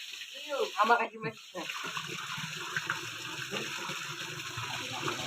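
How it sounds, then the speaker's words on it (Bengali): Water gushing steadily into a small fish tank, a constant rushing wash that continues throughout, with a voice speaking over it near the start. "পানির শব্দে অনেক কিছু বোঝা যাচ্ছে না"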